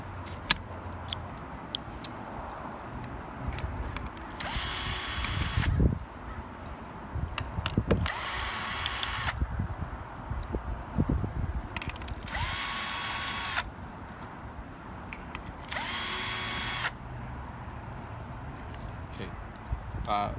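A power drill backs screws out of a 2018–2019 Infiniti QX80 dashboard in four separate whirring bursts of a second or two each, close and loud, with quieter handling noise and low background sound between them.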